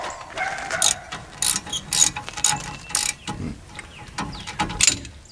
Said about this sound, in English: all I do is bring them up snug first and then tighten them down